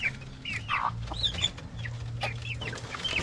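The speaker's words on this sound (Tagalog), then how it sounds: "Nandito yung mga ibang manok natin." Chickens, including hens, cluck and squawk nearby on a small farm in short, overlapping calls, with a low steady hum underneath throughout.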